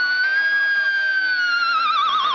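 An electric guitar pinch harmonic is wiggled with the whammy bar while diving down, giving a squealing whinny that wavers and drops in pitch. It is a single close, loud, sustained note with no talking.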